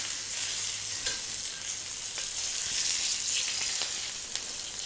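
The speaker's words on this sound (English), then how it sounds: "Gently start like that, render down the fat." A rack of lamb sizzles in a pan as its fat renders, giving a bright, continuous hiss with small crackles and occasional faint utensil taps.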